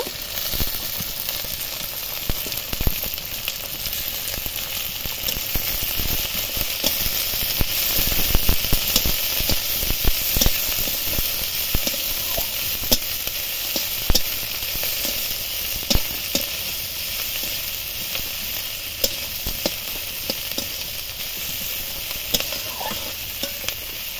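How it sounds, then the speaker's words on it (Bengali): Chopped onion and green chili frying in white oil in a pan, a constant loud sizzle with occasional scrapes and stirs, no talking over it. "এবার দেব কুচি করে রাখা পেঁয়াজ, লঙ্কা কুচি দেব"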